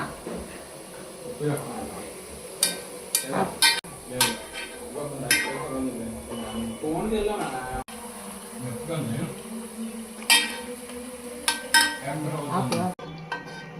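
Jantikalu (murukku) frying in hot oil and being turned, a steady buzzing sizzle broken by sharp clinks of a metal utensil against the pan, while someone talks throughout.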